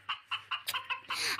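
A chicken clucks close by, a quick series of about six short, bright clucks ending in a longer squawk, over a low steady hum.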